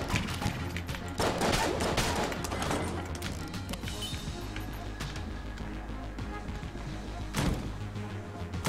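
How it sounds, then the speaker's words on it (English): Mr. Freeze's gun fires in a video game in a dense, continuous barrage of sharp blasts and crashing impacts that stays loud for several seconds, with brief louder bursts. "I think I like Mr. Freeze's stupid gun"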